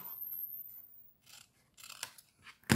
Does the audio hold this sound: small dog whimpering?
no